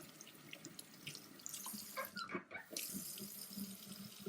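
A glass jar rinsed under a running kitchen tap, with a steady broadband rush of water into a sink and brief splashing shifts as the jar moves through the stream, close and fairly quiet.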